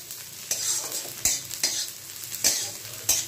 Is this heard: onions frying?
yes